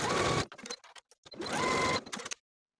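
A sewing machine runs in two fast bursts while stitching the shoulder seams of a boxy striped top, each burst a steady mechanical whir stopping abruptly, with short gaps of quiet handling noise between.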